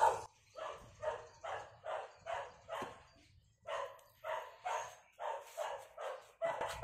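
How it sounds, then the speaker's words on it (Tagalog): A neighbour's dog barks repeatedly in steady bursts of about two per second, fairly close and loud, with a short pause midway and no talk over it. "Pasensya na po sa ingay, tumatahol yung aso ng kapitbahay."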